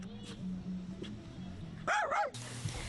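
Dogs awaiting sterilisation in Mauritius give one sharp, fairly close bark-and-yelp burst near the end, after a stretch of low murmuring background noise.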